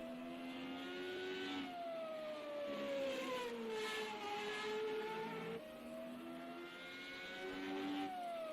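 An FR35 race car accelerating out of the slow first chicane at Monza, engine note climbing steadily through gears with clear upshifts, heard from onboard at moderate level with no talking.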